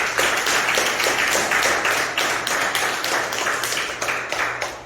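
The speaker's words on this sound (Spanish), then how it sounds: "Denle un aplauso al Señor." A church congregation claps for the Lord in steady rhythmic unison, a dense, loud, evenly pulsed wash of hands with a low hum underneath, heard without talk.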